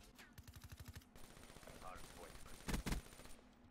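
Gunfire in the shooter Black Ops 3: a rapid burst of automatic shots, then scattered fire and two loud, close heavy blasts near the end.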